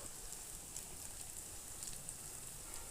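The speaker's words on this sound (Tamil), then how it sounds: "இப்போ இதை எண்ணெயில் சேர்த்துடலாம். சேர்த்துட்டு 2 சைடும் நல்லா வந்து கோல்டன் ப்ரௌன் கலரில் இது வந்து பொரிஞ்சு வரட்டும்." Heart-shaped sweet cookie snacks deep-frying in hot oil, a faint, even bubbling sizzle with soft crackles, continuous and quiet with no talking.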